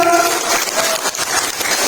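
Loud, dense applause from an audience at a youth church talk show, a continuous wash of many hands clapping close by.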